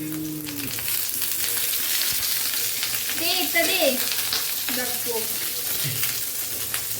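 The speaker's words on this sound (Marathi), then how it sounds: "पनीर फ्राय होत आहे" Paneer frying in oil in a pan at home, a steady close sizzle running throughout with brief stirring scrapes, and a distant cow mooing faintly in the background.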